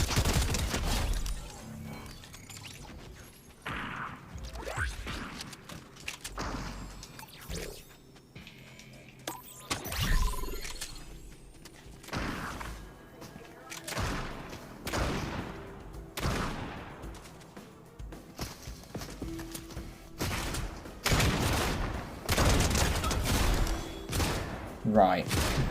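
SMG hip-fire in Fortnite, with rapid bursts of gunfire sprayed again and again between short pauses and louder volleys toward the end.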